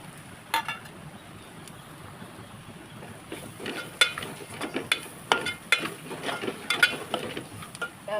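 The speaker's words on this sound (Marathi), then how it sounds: "सर्व मसाले घालून व्यवस्थित तेलामध्ये परतून घ्यायचे" Spices such as coriander powder are sautéed in oil over low heat for a Marathi okra bhaji, with a soft sizzle under scattered spoon scrapes and taps on the pan that grow more frequent.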